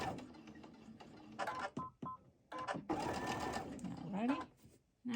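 A sewing machine chain stitches quilt squares for a star-pattern mystery quilt, running in bursts of fast whirring with short pauses between, close and moderately loud, with a person talking intermittently alongside.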